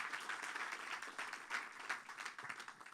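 Audience applause for a speaker at a tech center summit, a dense wash of clapping heard faintly and from a distance, steady without pause.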